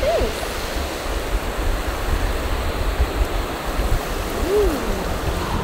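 Warm ocean water washes and surges continuously as a family prepares for a swim. The surf sounds steady and moderately loud, with faint voices and a brief vocal whoop over it.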